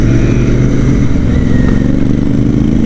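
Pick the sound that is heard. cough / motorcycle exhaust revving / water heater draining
motorcycle exhaust revving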